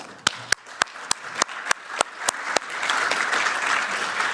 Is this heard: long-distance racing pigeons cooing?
no